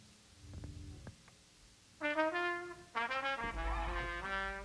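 A trumpet line from an early song, entering after a quiet start as a sustained melodic phrase of a few held notes, then continuing with a second brighter phrase over a low rumble.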